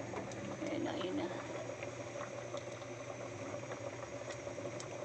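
Saba bananas boiling in a pot of water, a steady low bubbling rumble with small pops, close and fairly quiet.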